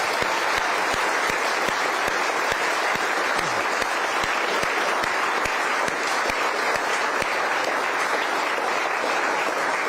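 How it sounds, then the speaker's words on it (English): An audience gives a round of applause for two student presenters: a dense, even roar of clapping filling the room for about ten seconds, with a few sharper nearby claps standing out and no talk. "let's end with another round of applause for the two of them"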